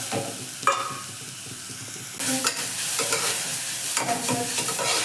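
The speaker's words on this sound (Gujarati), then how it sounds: "આપણે ગાજરને બરાબર શેકી લઈશું ઘીમાં" Grated carrots roast in ghee in a pan, a soft continuous sizzle broken by repeated spoon scrapes and stirring clatter close by, with no voices.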